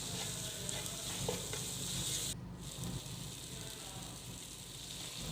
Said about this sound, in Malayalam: തക്കാളി ഒന്ന് വാടി വരുമ്പോഴേക്കും അതിലേക്ക് കുറച്ച് മുളക് പൊടി മഞ്ഞപ്പൊടി മല്ലിപ്പൊടി കുരുമുളക് പൊടി എന്നിവ ചേർത്ത് നല്ലപോലെ ഇളക്കിയെടുക്കുക